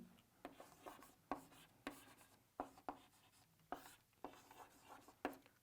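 Quiet strokes of writing an equation on a board, a series of soft scratchy taps and rubs in an irregular rhythm, close and faint, with no talking.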